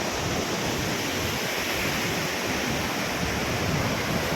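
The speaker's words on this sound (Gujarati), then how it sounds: "પાણી તો એકદમ ધુમાડા જેવું ઉતાળું ઉડી રહ્યું છે." Water rushes and sprays over Kadi Dam in a steady, loud roar of white noise, unbroken throughout with no voices.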